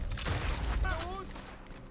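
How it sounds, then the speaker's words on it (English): Gunfire crackles during a Red Dead Redemption 2 shootout in the woods, a dense burst of shots over rumbling low noise with shouting voices mixed in, followed by a steadier loud din. "We're being shot."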